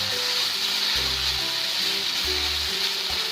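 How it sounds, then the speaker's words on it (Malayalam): Chopped banana flower sizzles steadily in a pan over a medium flame, a close, continuous frying hiss with a low scraping stir underneath and no talk. "മീഡിയം ഫ്ലെയിമിലായിട്ടുള്ളത് ഇടയ്ക്കിടയ്ക്ക് നമുക്കൊന്ന് ഇളക്കി കൊടുക്കുകയും വേണം. നമുക്കൊന്ന് ഇളക്കി നോക്കാം."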